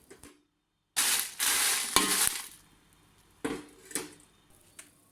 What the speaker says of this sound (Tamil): ஒரு பேனில் போட்டு அடுப்பில் வச்சு தான் கொஞ்சமாக ஆயில் விட்டுட்டு கறிவேப்பிலையும் ஒரு கொத்து போட்டு இதை வந்து நல்லா வறுத்துட்டு